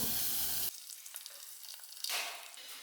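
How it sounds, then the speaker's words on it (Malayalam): Dried red chillies and curry leaves sautéing in hot oil in a pan, a loud burst of sizzling at first that drops to a quiet crackle, then swells again near the end. "വാറ്റൽമുളക് കറിവേപ്പില അത് ചേർത്ത് നമുക്ക് നല്ലപോലെ വഴറ്റിയിട്ട് ഇനി അത് നമുക്കിതിൽ ചേർക്കാം"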